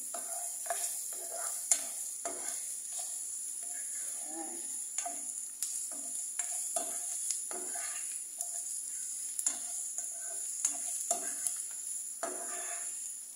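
Garlic frying in a pan gives a constant bright sizzle, while a utensil stirs and scrapes against the pan in irregular close taps throughout.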